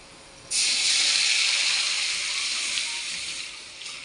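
Dal poured into a hot fried-onion tempering bursts into a loud, sudden sizzling hiss that holds steady and then slowly fades.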